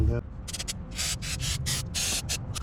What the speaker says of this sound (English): here's me cleaning out the filter cap